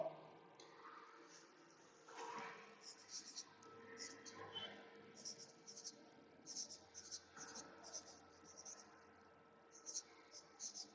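Pen or marker writing on a board during a class-11 maths lesson on linear inequalities, with soft scratchy strokes in short bursts under a teacher's quiet talk and faint room hum.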